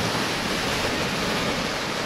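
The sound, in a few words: stormy sea waves on Crimean beach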